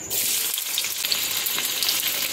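Chopped onion dropped into hot oil in a wok in a village kitchen sizzles loudly and continuously, a close, bright hiss throughout.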